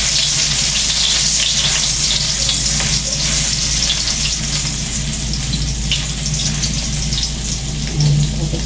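Steady, close sizzling of ginger sautéing in oil in a pan for tinola, a continuous bright hiss with no talking over it.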